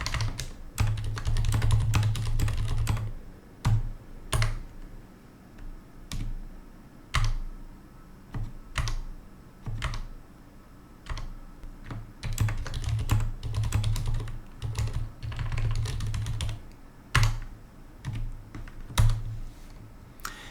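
Code comments being typed on a computer keyboard: bursts of rapid, close key clicks broken by short pauses, clear and alone with no voices.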